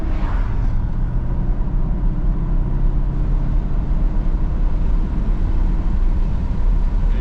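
A 1986 Mercedes-Benz 560SL (R107) drives down the road, giving a steady low engine and road rumble from inside the cabin, continuous and fairly loud, with no talking.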